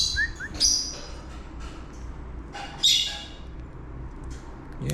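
Indoors, a hungry lost bird that flew into a house lets out two sharp squawking calls a couple of seconds apart, with faint chirps between them, close by and with no voices.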